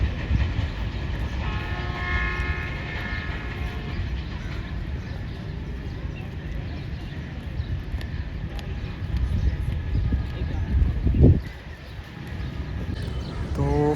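Pakistan Railways passenger train running from Karachi to Rawalpindi goes by with a steady, loud rumble of wheels on track and a brief louder swell near the end, and no voices.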